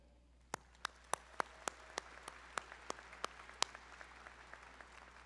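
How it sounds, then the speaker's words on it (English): At a business school commencement ceremony, a dozen sharp, distinct claps ring out at a steady, quick rhythm, sounding sparse and fairly close rather than like a full crowd, before fading into quiet. "Please join me in a round of applause"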